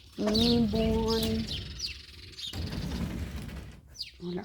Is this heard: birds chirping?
yes